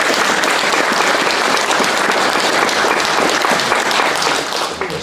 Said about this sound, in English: I think it's worth another round of applause